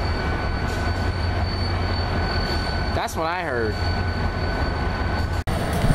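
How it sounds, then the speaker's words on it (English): An Amtrak Keystone passenger train, a cab car with four regular cars, rumbles steadily while arriving, with a brief wavering squeal from the wheels partway through. Someone speaks briefly over the train noise. "Here we got Amtrak train"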